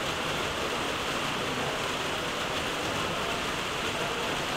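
Heavy rain coming down outdoors in Britain during a card game tournament, a steady dense hiss of falling water, loud and unbroken throughout, with no voices.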